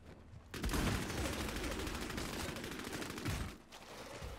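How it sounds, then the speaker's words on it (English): Sustained automatic gunfire in Bloodhunt, a dense burst of rapid shots lasting about three seconds, loud and close, with no voices. "you're getting shot at, bud"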